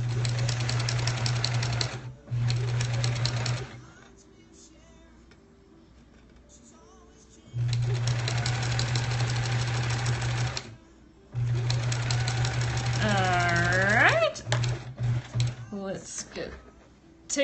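A home sewing machine stitches quilt block pieces together in three sustained runs with short pauses between them, a steady mechanical whir close by, and a person talks briefly near the end.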